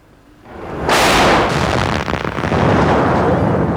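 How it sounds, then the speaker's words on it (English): A sudden, heavy blast from mortar bombs fired at Number 10 Downing Street in London breaks out of quiet and gives way to a sustained rumbling roar with rough, crackling texture, loud and close. "there was this tremendous explosion"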